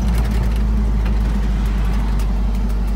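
A Jeep with a 258 petrol six-cylinder and Torqueflite 727 automatic transmission drives along, its engine a steady, loud, low drone with road rumble and no talking.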